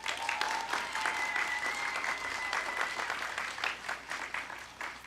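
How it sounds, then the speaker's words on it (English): Sustained applause from a graduation ceremony audience, a dense even wash of clapping that holds steady throughout, moderately distant, with a faint tone lingering in the background and no speech. "Please extend one more round of applause acknowledging the tremendous work and dedication of these candidates."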